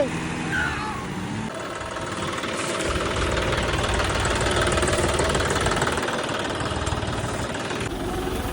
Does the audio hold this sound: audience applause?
no